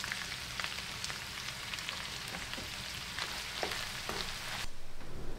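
Ground beef and onion mixture fries steadily in a home kitchen pan, a continuous soft sizzle with scattered pops and crackles, close and moderately quiet, with no talking.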